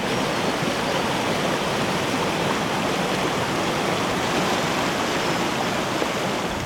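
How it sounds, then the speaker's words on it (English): River water flows, played in reverse. The result is a steady, dense rushing wash that stays close and continuous throughout, with no voices. "I wanted to record a river"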